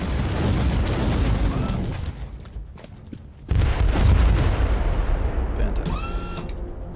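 A sentry gun in the Warhammer 40K Inquisitor video game fires amid heavy booming blasts, loud and dense with a brief lull midway before the barrage resumes.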